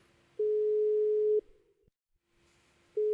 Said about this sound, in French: je te laisse composer le numéro, Ouais, mon Léo